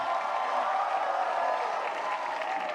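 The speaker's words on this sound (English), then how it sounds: "One more big cheer for Pope Francis." A large crowd at an interreligious gathering of young people in Singapore applauds and cheers for Pope Francis, a dense, steady wash of clapping from a big hall, continuous and fairly distant.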